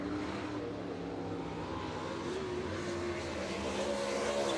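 Race car crossing the finish line at a speedway, a faint, distant engine drone with a slowly rising tone over steady crowd and track noise.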